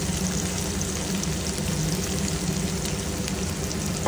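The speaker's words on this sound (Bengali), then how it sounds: "ওখানটায় মাছটা প্রায় ভাজা হয়েই গেছে। এদিকেও তেল গরম করতে দিয়ে দিয়েছি।" Fish fries in hot oil, a steady loud hiss and crackle running unbroken throughout with no voices.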